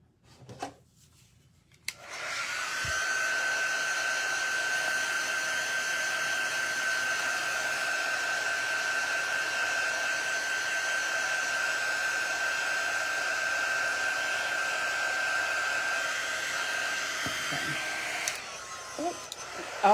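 A hair dryer blows steadily at close range for about fifteen seconds, drying a handmade primitive stacked-box craft piece, with a constant whine and airy roar that starts abruptly and cuts off near the end.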